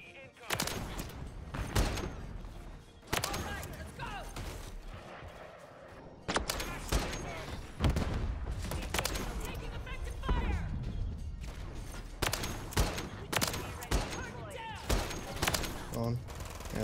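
A Barrett .50 cal rifle in a shooter game fires repeated, sharp, loud single shots spaced a second or two apart. Faint chatter sits underneath.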